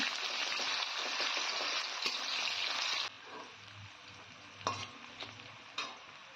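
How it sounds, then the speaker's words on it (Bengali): Chopped onions frying in hot oil with cumin and bay leaf give a loud, dense sizzle for about three seconds, then a quieter crackle with a few sharp stirring scrapes. "এবার দিয়ে দেবো কুচানো পেঁয়াজ পেঁয়াজটাকে আমি হালকা ভেজে নেব"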